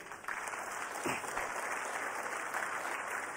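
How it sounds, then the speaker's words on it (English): An audience claps for the ISRO team after a successful SSLV-D3 rocket launch carrying the EOS-08 satellite, a moderately quiet but sustained round of applause from a hall of people, continuous and even with no speech on top. "Let us give a big round of applause to the entire team."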